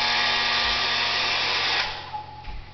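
A hanger-shaped hairdryer blows a strong, steady whoosh close by, then cuts off partway through, leaving a quieter room with a couple of soft knocks and no speech.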